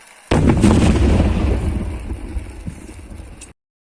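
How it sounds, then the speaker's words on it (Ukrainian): A loud, deep explosion from demining work in liberated Kharkiv region bursts in suddenly, then a long rumbling roar slowly fades out before cutting off. "Вибух."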